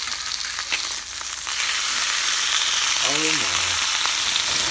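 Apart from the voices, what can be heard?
sirloin steak frying in a pan, being turned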